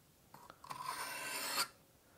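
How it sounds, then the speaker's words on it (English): A knife blade is drawn across an oiled bench stone on a bench-style sharpener in a single quiet rasping stroke that builds and then stops abruptly, with nothing else audible. "you want to try to do the same number of sharpening strokes on both sides of the blade"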